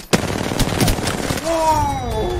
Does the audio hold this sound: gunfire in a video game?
yes